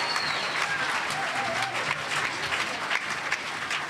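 A crowd applauds the Mather School at a One Boston Day gathering, with sustained, dense clapping that stays loud for the whole stretch and a faint whistle early on.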